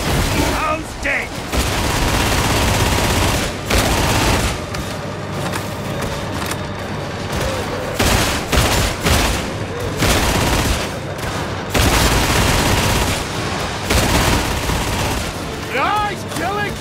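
Dense, continuous gunfire from Warhammer 40000: Darktide, rapid shots and bursts packed together for the whole stretch, loud and close, with game voice lines and brief callouts woven through the barrage.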